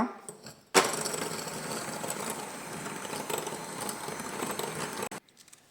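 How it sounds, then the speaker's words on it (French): Eggs and sugar whisked together in a bowl for elderflower waffle batter, a steady busy scraping and clattering that runs for about four seconds after a sharp start, then stops. "On va venir fouetter l'ensemble."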